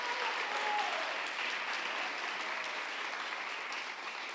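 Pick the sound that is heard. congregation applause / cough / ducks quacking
congregation applause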